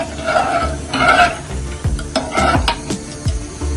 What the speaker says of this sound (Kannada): ಈಗ ಅದ್ರ ಜೊತೆನೆ ನಾನು ಮುದ್ದೆನೂ ಮಾಡ್ಕೊತಾ ಇದ್ದೀನಿ